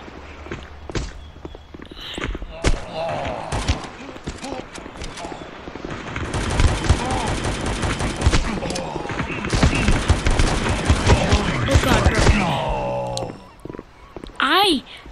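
Rapid gunfire from the mobile shooter Guns of Boom, with dense bursts of shots and footsteps running from about six to thirteen seconds, loud and busy with game effects throughout.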